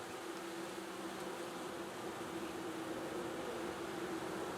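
Honey bees hum steadily in a quickly expanding hive full of newly hatched young bees, a soft, continuous drone that stays level and close throughout without voices.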